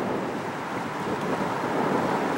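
Steady wind rushes through palm trees with a soft continuous rustle and breathy hiss, moderately loud and unbroken.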